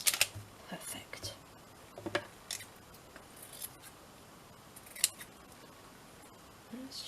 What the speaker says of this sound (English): Let's just cut these out.